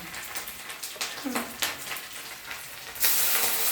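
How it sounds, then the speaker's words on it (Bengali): Onion, ginger and garlic paste frying in hot mustard oil in a pan, a steady close crackling sizzle with scraping stir strokes and a louder hiss burst near the end. "দিয়ে দিলাম পেঁয়াজ বাটা, দেবো আদা বাটা, রসুন বাটা, দিয়ে আগে কষে নেবো ভালো করে"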